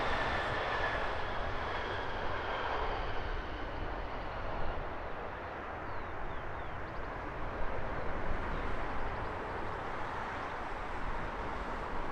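An aircraft at Heathrow Airport produces a steady, broad jet roar at moderate distance, holding fairly constant throughout with faint whining tones early on.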